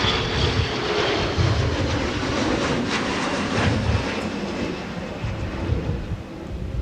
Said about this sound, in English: Had to pause for a departing CRJ